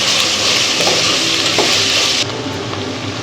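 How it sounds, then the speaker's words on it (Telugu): Ginger garlic paste and onions frying in a pan for Rayalaseema-style chicken biryani, giving a loud, steady, close sizzle that drops slightly in intensity near the end. "బాగా అల్లం వెల్లుల్లి పేస్ట్ పచ్చి వాసన వేయదాకా బాగా వేయించుకోవాలి."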